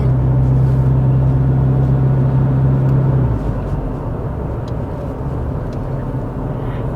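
A car drives along a road in a steady, enveloping low rumble of engine and tyres, heard from inside. A droning tone holds for about three seconds, then drops away while the road noise carries on. No one speaks.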